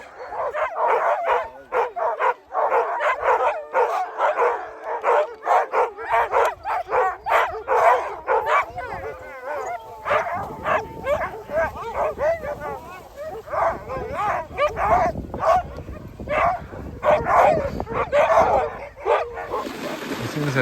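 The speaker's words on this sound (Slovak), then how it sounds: "Myslím, že Český horský pes je pred nami." A Czech Mountain Dog barks repeatedly at close range during a long-distance outdoor trek, sharp yips and barks in a quick irregular rhythm with some whimpering, while people talk nearby.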